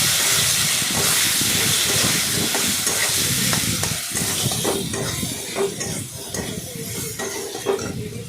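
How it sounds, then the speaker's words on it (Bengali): Potatoes with chili powder fry in a pan for fish curry, a loud continuous sizzle and hiss with repeated scraping stirs that ease off slightly toward the end. "দিয়ে সেটাকে ভালো করে আলুটাকে ভেজে নিলাম"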